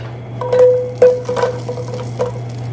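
Onions cooking in an oven-safe iron skillet with a steady low hum beneath and a few stirring scrapes and clacks against the pan.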